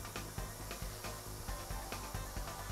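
A hot air welder heat-welds vinyl, giving a steady hiss with rhythmic rubbing strokes repeated every fraction of a second, close and moderately quiet.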